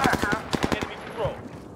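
A quick burst of close automatic gunfire in the video game Call of Duty Warzone on Rebirth Island, several rapid sharp shots then a short pause and a few more, with a voice mixed in.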